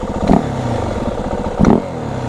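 A 2025 Yamaha WR450F dirt bike ridden with its exhaust fully restricted: a muffled, steady engine drone with two brief louder throttle blips and some clatter, heard close.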